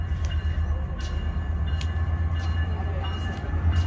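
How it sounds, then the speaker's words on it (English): A train to Burbank, California, rumbles steadily with a deep low drone, broken by periodic light clacks and squeaks from the rails. "here's our train back to Burbank"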